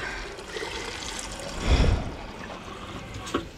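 A bottle fills from a free drinking-water tap, giving a steady rushing flow that swells briefly near the middle, heard up close with no talking.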